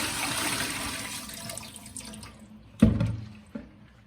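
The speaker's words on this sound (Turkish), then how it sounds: "Şimdi ben bunu suyunun içinden suyunu döküyorum." Brine draining off homemade salted cheese, a steady pour of water followed by a couple of heavier splashes and knocks near the end.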